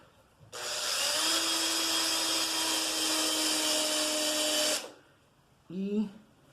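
A power drill whirs steadily for about four seconds at close range, drilling into wood, then stops; a brief voice follows.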